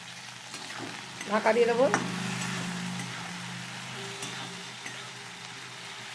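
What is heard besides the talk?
okra frying in a pan with salt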